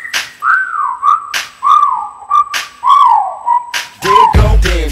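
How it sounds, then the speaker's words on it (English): A person whistles at a girl with a sequence of loud, close, sliding whistles, several rising and falling phrases separated by short pauses, ending in a burst of noisy sound. "Okay, time to whistle at her."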